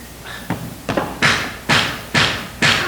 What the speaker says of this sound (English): Listen, the front door.